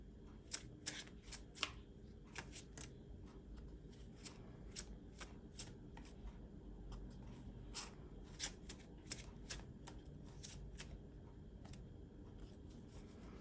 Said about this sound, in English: I'm going to go ahead and pull the second row of cards here so we can get them all on the table